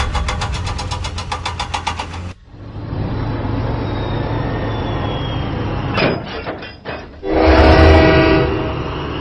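Engine of a train in a Thomas & Friends video game runs along the tracks, a steady rumbling drone with a brief dip partway, then swelling louder near the end with clattering rail sounds.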